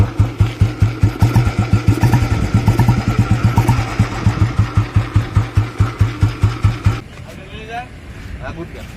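A 43-year-old vintage Royal Enfield Bullet motorcycle engine idles close by with a steady, thumping single-cylinder beat, then cuts off abruptly near the end, leaving faint background noise.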